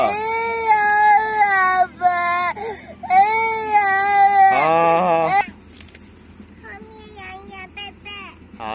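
A young boy cries loudly and close by in repeated wailing sobs and whimpers, with a brief sharper sob midway before settling into softer whimpering, while a voice speaks to him gently in between.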